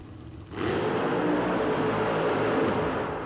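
Fuel-injected Chevy-powered monster truck engine at a 1990 USHRA Cincinnati event, rising suddenly to a loud, steady broadband roar that holds for about three seconds, with no voices over it.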